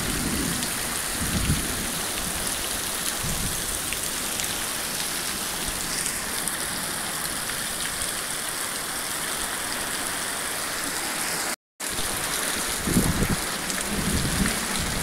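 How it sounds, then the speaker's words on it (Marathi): Heavy summer rain pours down in a thunderstorm with wind, a dense continuous roar with low rumbles of thunder, briefly cut out once before resuming just as loud. "मित्रांनो वादळ पण आहे आणि खूप पाऊस पण आहे."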